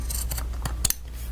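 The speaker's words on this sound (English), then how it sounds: "and then I just hit it with my scissors. Just trim it clean afterwards" Teflon-coated scissors snip through a paper craft tag in a few quick, crisp cuts, close and clear with no talking.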